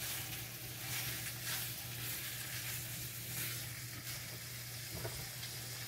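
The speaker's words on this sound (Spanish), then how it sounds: "le voy a poner los camarones. Y los vamos a ir revolviendo para que se cocine lo más parejo posible" Shrimp sizzling in a hot pan while being stirred, a steady frying hiss with soft scraping and stirring sounds, moderately quiet and without voices.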